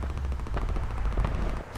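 Rapid gunfire in the Homefront multiplayer video game rattles loudly and continuously as a dense run of shots, close and without pauses.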